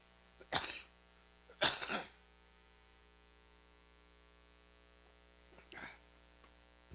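Two sharp coughs close together near the start, then a third softer cough a few seconds later, with a low electrical hum underneath.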